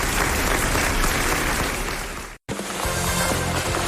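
Studio audience applause at a French radio comedy panel show, loud and sustained dense clapping that cuts out briefly near the middle and then resumes with a few voices over it.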